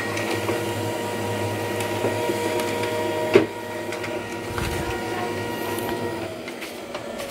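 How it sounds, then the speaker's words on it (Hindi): Brother printer running and printing a document, a steady mechanical hum and whir with a sharp click partway through and faint rattling, close and continuous without speech. "ये देखिए मशीन बिल्कुल रन हो रहा है।"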